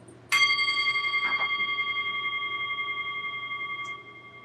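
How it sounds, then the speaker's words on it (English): A singing bowl is struck once and rings out with a clear, sustained chime, its steady overtones fading slowly over several seconds during a quiet morning prayer gathering. "And as we hear the sound of the chime of the bowl"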